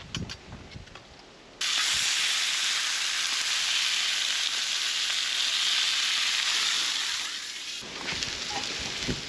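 Thin steaks sizzle loudly on a hot grill outdoors in outback New South Wales, a steady broad hiss of frying that starts abruptly, holds for several seconds, then drops back to quieter background.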